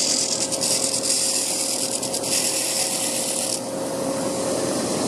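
A belt grinder bites into high carbon steel with a loud, steady, rasping grind. A bright metallic hiss dominates the first few seconds, then eases while a constant motor whine continues.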